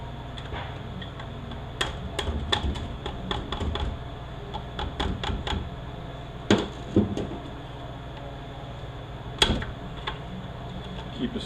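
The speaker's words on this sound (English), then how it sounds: "Keep a screwdriver behind the snap ring, keep it pushed out." Metal tapping and clicking from a screwdriver working a snap ring out of an A750E transmission, with irregular close ticks and scrapes spread throughout and a few sharper knocks.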